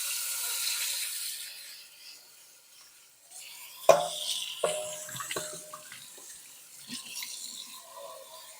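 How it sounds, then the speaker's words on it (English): Tap water runs into a kitchen sink while a mixing bowl used for bread dough is rinsed out, a steady soft flow broken by a few sharp knocks of the bowl against the basin. "So let's go ahead and wash out the bowl."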